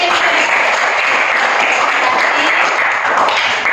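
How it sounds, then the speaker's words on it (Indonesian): A classroom bursts into applause, a steady patter of many hands clapping close by for a few seconds. "kita tepuk tangan untuk"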